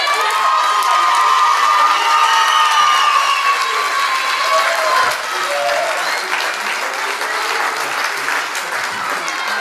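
A large theatre audience at a stage show claps loudly and continuously, mixed with cheers and a few shouts, easing slightly in volume midway before carrying on.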